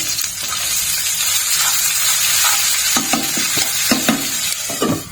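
Spice paste of green chilli and ginger with cumin powder frying in a pan, a steady close sizzle with several sharp scraping stirs of a spatula toward the end, no talking.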